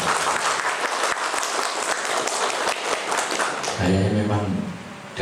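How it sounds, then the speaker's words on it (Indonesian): A room full of people at a health-centre accreditation gathering claps loudly and steadily for several seconds, then the applause thins as a voice begins speaking over the last of it. "Tepuk tangan."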